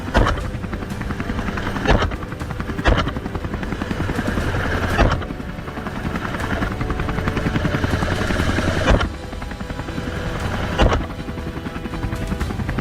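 A helicopter drones loud and steady with a throbbing rotor chop, holding close overhead throughout with slight surges in level.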